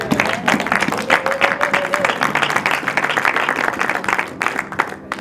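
A church congregation applauding to acclaim Jesus during a sermon, dense sustained clapping from a crowd throughout, loud and close, with raised voices mixed in.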